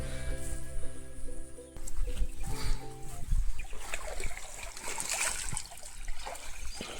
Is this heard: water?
yes